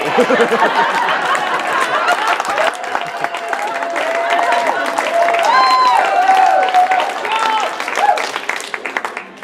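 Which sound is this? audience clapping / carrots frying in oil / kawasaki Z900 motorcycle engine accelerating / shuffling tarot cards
audience clapping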